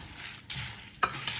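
Whole spices dry roasted in a pan for rasam powder, stirred with a spoon in short scraping, rustling bursts with a couple of sharper clinks, close and fairly quiet.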